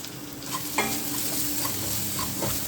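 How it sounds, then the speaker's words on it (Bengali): Ground spices with salt, turmeric, coriander and cumin are fried and stirred in a pan for a fish and sponge gourd dish, a steady sizzle broken by several sharp scraping stirs. "এখন আমি স্পাইসেস দিয়ে দেবো, লবণ, হলুদ, ধনিয়া এবং জিরা গুঁড়া।"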